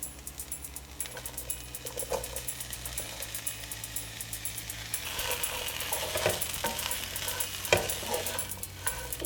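Zucchini pieces and mint leaves roast in oil in a pan, a steady close sizzle with scraping stirs and clinks of a utensil against the pan, growing a little busier toward the end; no one speaks.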